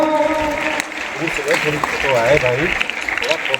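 An audience claps at a student talent award ceremony in Jakhaniya, Ghazipur, steady applause running under a loud announcer's voice speaking Hindi throughout.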